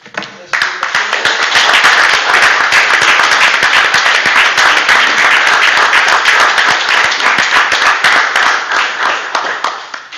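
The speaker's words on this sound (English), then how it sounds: "I'd like to have a big round of applause" A borough council meeting audience gives a big round of applause, many hands clapping loudly and continuously for about ten seconds, crisp individual claps audible within the steady roar before it tapers at the end.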